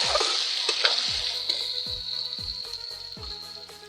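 Meat and spices with a bay leaf frying in a pan, loud continuous sizzle broken by regular scraping stirs of a spoon against the metal, close and without talk.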